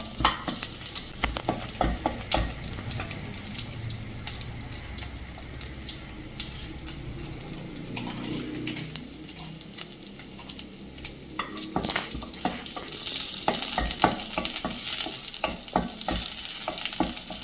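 Lightly crushed garlic fries in hot oil, giving a continuous crackling sizzle with frequent sharp spits and stirring clatter. The sizzle swells louder toward the end, and no one speaks.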